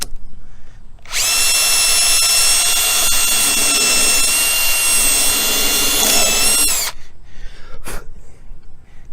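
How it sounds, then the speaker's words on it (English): A power drill driver whirs at high speed for about six seconds drilling a pilot hole in a 1996 Jayco pop-up camper door, steady and close, then stops; quiet room noise before and after. "then drilling a pilot hole like"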